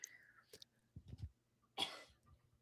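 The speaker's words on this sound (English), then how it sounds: "wait, cough real quick, actually" A woman coughs a few times in a quiet room: a soft throat sound, then a cluster of low coughs, then one louder harsh cough, close to the mic.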